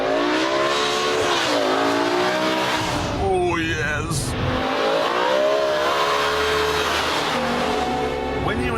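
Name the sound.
BMW M5 saloon engine accelerating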